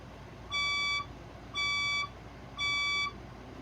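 Building fire alarm sounding three identical electronic beeps, each about half a second long and evenly spaced, loud and clear over a quiet background.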